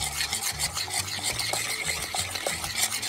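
A processed cheese mixture being stirred in a pan makes a fast rhythmic scraping and rubbing, close and continuous, with a faint sizzle underneath.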